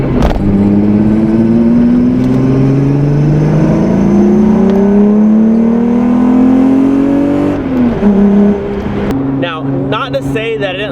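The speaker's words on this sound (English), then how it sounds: "got all the windows down for all the exhaust noise" Heard from inside with the windows down, a VR6 engine swapped in to replace the original 2-liter revs hard through its exhaust. Loud rising and falling engine tones climb through the gears, and voices talk over the noise near the end.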